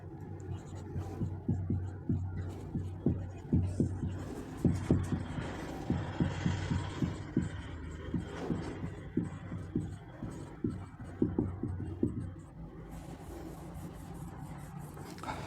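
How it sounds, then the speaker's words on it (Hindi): A math solution being written by hand, with a steady run of soft, rhythmic pen or chalk strokes scratching on a surface, close and fairly quiet, with no talking. "तो चलिए यहाँ पर लिख देते हैं।"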